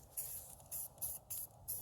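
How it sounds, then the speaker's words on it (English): Rust protection spray is applied in short hissing bursts onto a Jeep TJ Wrangler's Smittybilt bumper, five quick regular puffs close by, faint and without talk. "here we are with our rust protected spray here"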